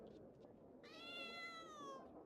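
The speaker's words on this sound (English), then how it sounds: "Aw, I hear cats." Cat meows sound from a video game, one drawn-out, high, tonal meow rising clearly over a steady low background for about a second.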